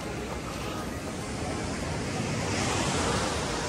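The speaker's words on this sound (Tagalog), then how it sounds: "Lakas ng alon" Strong ocean surf rolls onto a beach in Bali, Indonesia, with a broad, continuous roar, swelling slightly louder toward the end, wind buffeting the microphone.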